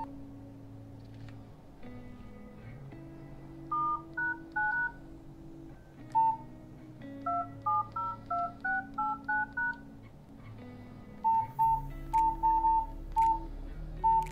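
A series of short electronic keypad beeps from a Nokia X3-00 mobile phone, pressed in irregular bursts with quiet pauses between, over faint background hum.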